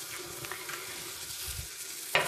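Vegan French toast slices frying in a very hot pan, a soft steady sizzle close by with a brief louder crackle near the end.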